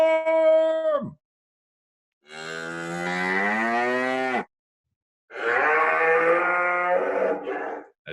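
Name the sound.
cow mooing, farm animal sound effect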